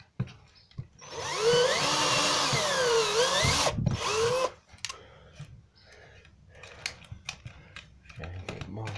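Power drill boring pilot holes into wood for a garden bug house, one loud whining run of a few seconds with the pitch rising and falling, then softer knocks and handling noises, with someone talking.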